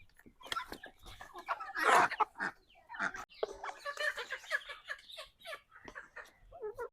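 Ducks, hens, guinea fowl and turkeys feed together, giving off scattered clucks and squawks with pecking noises, fairly close and moderately loud throughout.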